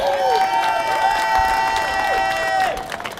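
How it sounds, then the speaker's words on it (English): Crowd cheering and applauding at a press conference in Akron after a justice march, with whistles and shouting voices over the clapping, loud and sustained before tapering slightly at the end. "Let's give them all a round of applause"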